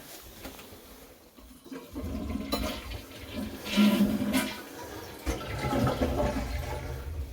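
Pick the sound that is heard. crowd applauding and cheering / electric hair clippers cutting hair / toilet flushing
toilet flushing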